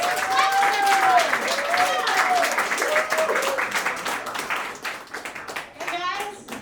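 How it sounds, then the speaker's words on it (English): A comedy club audience claps at a Broadway comedy club, producing a steady wash of hand clapping that gradually thins out while a voice speaks over it. "Raise some clappers, everybody."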